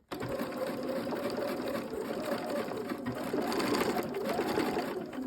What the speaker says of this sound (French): je fais une couture de renfort, donc je fais une marche arrière